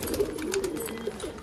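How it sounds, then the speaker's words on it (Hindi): Soft, low cooing of pigeons nearby in the rain, several overlapping murmuring calls with faint rustling in the background. "और मुझे रंजन के कबूतर भी आज मुझे ही खोलने हैं"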